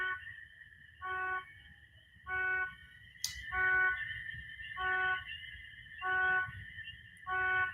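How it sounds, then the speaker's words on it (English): A car alarm outside sounds a regular series of short, evenly spaced electronic tones over a low background rumble, moderately distant and repeating about every 1.2 seconds. "It's a car alarm going off."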